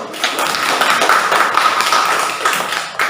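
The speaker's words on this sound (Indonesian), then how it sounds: "Tepuk tangan untuk Restu." Classroom clapping as schoolchildren applaud a classmate after a presentation, a brisk, close patter of small hands for about three seconds, with a voice faintly underneath.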